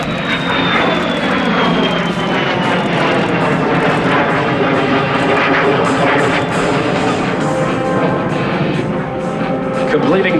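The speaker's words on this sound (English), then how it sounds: "As he approaches again, this time from the right, for another high-speed photo pass." A de Havilland DH-115 Vampire twin-boom jet roars past at an airshow at Thunder Over Michigan 2022, a loud continuous engine rush with shifting pitch during a high-speed pass, an announcer talking over it.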